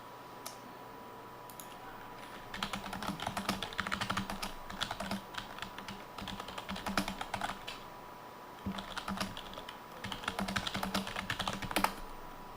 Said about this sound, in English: I must just keep typing it